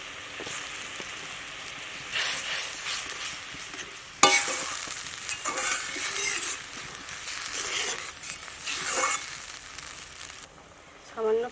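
Whipped yogurt and grated coconut cooking with eggplant in a pan for begun basanti, crackling sizzle that swells suddenly midway with stirring scrapes, close, fading briefly near the end.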